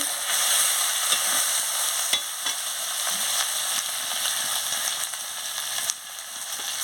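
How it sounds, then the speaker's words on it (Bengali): Masala of coriander powder and chopped tomato sautéing and being stirred in a pan for a fish curry, with a steady close sizzle and occasional scraping stirs throughout, no voices. "দিয়ে মশলাটাকে ভালো করে কষিয়ে নিচ্ছি"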